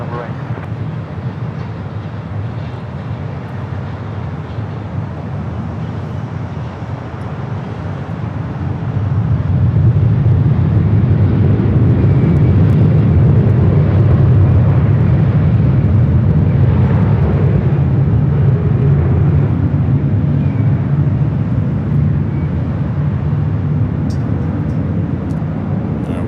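Jet airliners at Los Angeles LAX airport, a distant rumble that swells into a loud, sustained roar as an aircraft passes, then holds steady under continuous outdoor noise.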